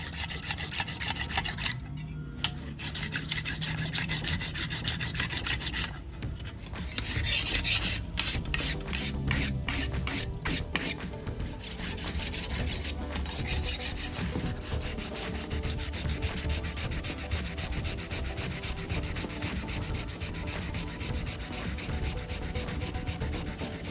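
A hand file rasps steadily over stainless steel car trim in continuous close strokes, with a few brief pauses early on, then unbroken scraping.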